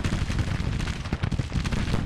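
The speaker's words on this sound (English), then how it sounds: "Good efforts on our cannons, bombarding as well." Cannon bombardment on a Grand Tactician battlefield, a rolling rumble of artillery fire with overlapping booms and cracks, loud and continuous over a short stretch.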